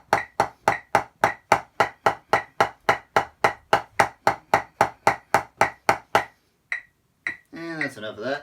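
Snare and tenor drums strike a long run of very loud fortissimo arm strokes in an even, rapid pulse, each hit sharp and close, before stopping; a voice then speaks briefly.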